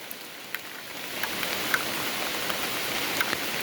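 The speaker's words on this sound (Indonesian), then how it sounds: "suasana masih gerimis" Light drizzle falls steadily outdoors beside a lake road after a landslide during flooding, a soft, even hiss of fine rain with a few faint scattered drops tapping nearby.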